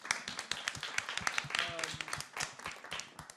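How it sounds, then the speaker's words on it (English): A studio audience at an interview session gives a round of applause: dense, continuous clapping fills the whole stretch, with some voices and cheers mixed in. "let's get a round of applause for that."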